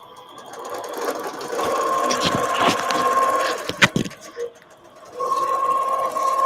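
A sewing machine stitches yarn couching onto a quilt, its whirring hum steady and close, broken by a few clicks and a short pause before it resumes.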